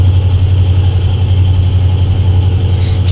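A freshly built, modified 1981 Ford 400 V8 running steadily just after its first start, with a loud, deep, even rumble and a fast pulsing beat heard up close and alone.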